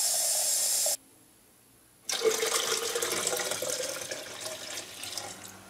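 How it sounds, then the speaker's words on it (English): Hot water pours steadily into freshly squeezed lemon juice for lemonade, a continuous splashing rush that starts after a short silent break and runs on to the end. "add 3 cups of hot water"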